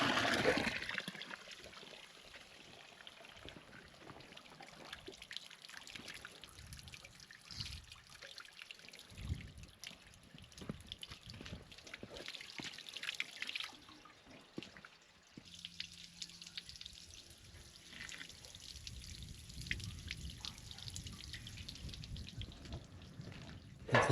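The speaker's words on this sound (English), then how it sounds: "Well, water's here." Water trickles steadily from a farm irrigation well, a continuous soft splashing dribble with no voices over it for the whole stretch.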